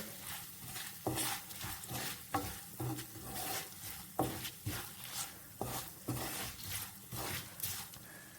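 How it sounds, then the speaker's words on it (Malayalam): Sambar powder being stirred and heated in a pan for vegetarian sambar, with a soft, continuous sizzle and a rhythmic scraping of the spoon about once a second, fairly quiet and close. "ഇനി നമുക്കിടേണ്ട സാമ്പാർ പൊടി നന്നായിട്ട് ഇളക്കി കൊടുത്ത് ചൂടാക്കി എടുക്കാം"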